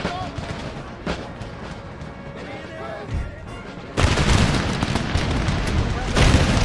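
Mortar and cannon fire in the video game Total War: Empire, with distant booming artillery shots rumbling under a busy battle bed, then a sudden louder, denser stretch of gunfire and explosions toward the end.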